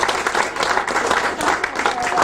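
Guests at someone's 40th birthday party in Victoria applaud Rita, a lively burst of many hands clapping close by, with voices mixed in among the claps.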